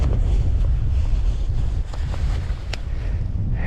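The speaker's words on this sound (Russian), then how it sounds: "Ветер, ветер, ветерок." Strong gusting wind on a frozen taiga lake roars and buffets the microphone in a steady low rumble, loud and constant throughout with no voices.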